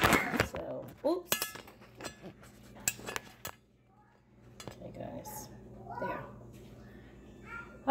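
A metal pan clanks and scrapes on a kitchen counter while lasagna is being prepared, giving a string of sharp clinks and knocks with softer shuffling between them and some talk mixed in.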